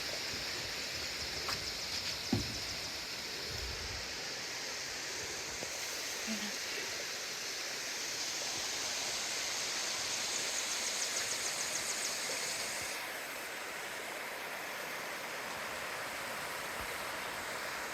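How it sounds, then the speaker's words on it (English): A hot spring waterfall at Liard River Hot Springs, fed from several pools, gives a steady broadband rush of falling water. A few faint knocks sit over the constant roar, and no one speaks. "That's a hot springs waterfall right there."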